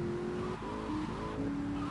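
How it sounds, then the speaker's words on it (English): A fast car in the GTA Vice City video game engine drones steadily, its pitch stepping up and down through gear shifts as it speeds along, fairly quiet and with no talk. "Oh, damn. This is a fast car."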